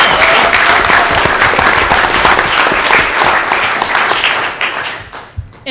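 A city council meeting audience gives a loud round of applause for a tennis coach honored as Coach of the Year, dense sustained clapping that thins and fades near the end.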